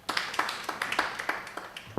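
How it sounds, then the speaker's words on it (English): Audience at a sub-national youth parliament sitting in Luwero clapping, a brief burst of scattered, moderately close hand claps with a fairly even rhythm. "Please, a big round of applause."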